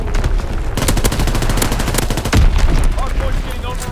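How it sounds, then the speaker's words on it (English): Heavy, loud battle gunfire in the WWII shooter game Call of Duty: WWII, with rapid machine-gun bursts and a deeper thump of incoming mortar fire partway through, continuous throughout. "Enemy mortar fire incoming."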